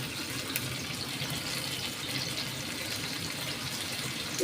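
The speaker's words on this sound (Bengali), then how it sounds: "তাওয়ায় মাছ দিয়ে দিয়েছি, একটু প্রথমে চড়া আঁচ করে তারপরে একেবারে ঝিম করে ধরে ধরে ভাজবো।" Tilapia fish frying in oil on a tawa over high heat, giving a steady, dense sizzle that runs unbroken and fairly loud throughout, with no talking.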